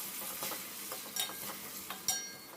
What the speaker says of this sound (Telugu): టమాటా కూడా బాగా ఫ్రై అవ్వాలండి.